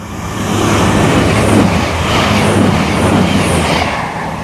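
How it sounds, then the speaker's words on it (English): A train rumbles steadily through a railway station with a low, continuous drone and rhythmic clatter of wheels, fairly close and loud throughout. "And here we are in Adlington train station"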